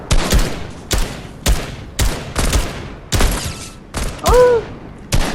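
Gunfire in a multiplayer video game: repeated sharp bursts of shots in quick clusters, loud and close, with a brief tonal game sound near the end and no talking.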